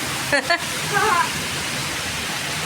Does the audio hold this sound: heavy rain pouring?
yes